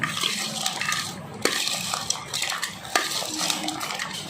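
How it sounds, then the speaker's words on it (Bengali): Spoon scraping and clinking against a bowl while a sweet corn chana mixture with spicy chanachur is stirred, producing soft wet churning with a few sharp knocks, close and with no talking. "এবার সব একসঙ্গে আমি মিশিয়ে নিচ্ছি"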